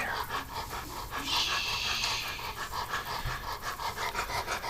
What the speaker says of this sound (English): You sound terrible,